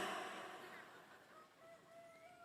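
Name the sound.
chicken clucking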